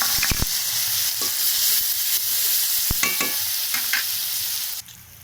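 Ginger, cumin and green chilli paste frying in a pan, a loud continuous sizzle with a few sharp spoon knocks and scrapes, dropping away just before the end.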